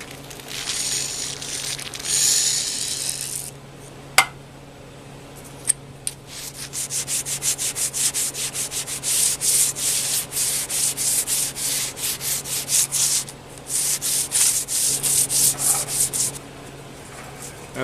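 An old file and a sharpening stone work over metal on a Bridgeport milling machine, starting with a few scattered scrapes and then settling into a long run of quick, rhythmic back-and-forth rasping strokes, close and moderately loud.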